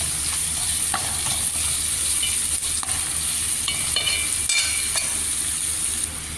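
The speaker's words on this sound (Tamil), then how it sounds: "கொஞ்சம் நல்லா வணக்கி வெங்காயம் கொஞ்சம் நல்லா செந்நிறமாக வரணும்." Onions sauté in a pan for a beetroot dish with a steady, close sizzle, light stirring scrapes and occasional utensil taps, and a constant high whine sits over the frying throughout.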